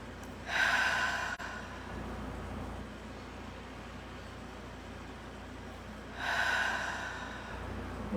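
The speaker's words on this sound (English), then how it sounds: "So a couple of nice deep breaths." Two slow, deep breaths taken close up, each a soft hiss of air lasting over a second and several seconds apart, over quiet background hiss.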